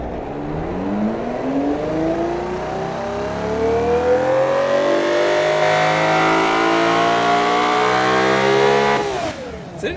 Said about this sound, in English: Oh man, it revs up so quick.